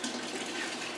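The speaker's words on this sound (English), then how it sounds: "we're going to add it to the bucket that's half full" Cooked homemade laundry soap poured into a half-full bucket of hot tap water, a steady, close splashing gush that lasts about a second with no talking.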